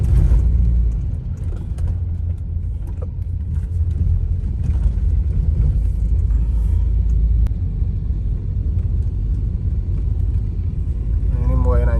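An old Volvo 960GL climbs a hill in first or second gear at about 2000 rpm and 20 km/h in a forest park. A steady, heavy low engine rumble drones throughout, with faint voices at times.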